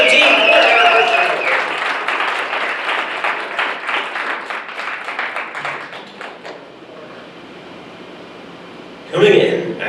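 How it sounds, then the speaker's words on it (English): Audience applause at a LiveWorkPlay open house at Bayview Village, a dense wash of clapping that holds steady for several seconds, thins out, then breaks into a short fresh burst near the end. "How about a round of applause for 17"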